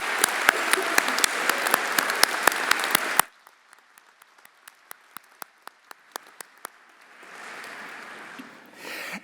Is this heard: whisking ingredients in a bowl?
no